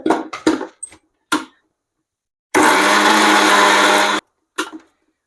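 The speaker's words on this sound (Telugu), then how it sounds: "యాడ్ చేసుకొని ఇంకొక తిప్పుతాను మిక్సీలో." A kitchen mixer grinder whirs loudly and steadily for under two seconds, grinding soaked rice, chana dal and onion into a paste with a little water, set between brief clatters and knocks of the jar and lid.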